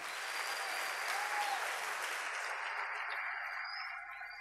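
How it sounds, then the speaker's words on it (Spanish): Sustained applause from a large church congregation, steady and fairly distant, slowly fading toward the end. "Dele un fuerte aplauso a Jesús"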